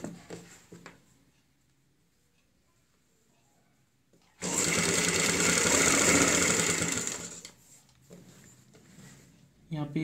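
Sewing machine stitching piping onto a kurti, a loud steady whirring run of about three seconds in the middle, bracketed by quieter stretches with someone talking before and after.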